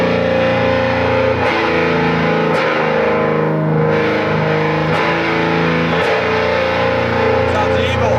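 An electric guitar played through a homemade distortion pedal cranked to high gain gives a thick, saturated, buzzing tone, with chords struck repeatedly and sustained loudly throughout.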